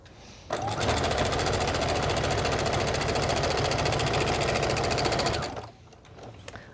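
A sewing machine stitches binding on fabric in one continuous, loud, close run of about five seconds, starting and stopping abruptly, with a quiet lead-in and tail.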